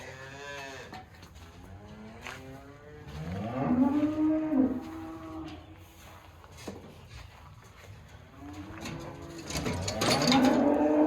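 Several dairy cows moo at length, with deep drawn-out calls rising and falling, close by in an enclosed barn.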